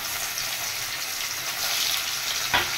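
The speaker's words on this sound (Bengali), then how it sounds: "এবার এই তেলে আমি কিছু পনির ভেজে নেব।" Paneer frying in leftover oil in a wok gives a steady, close hiss and crackle throughout, with a brief sharper spatter near the end and no talking.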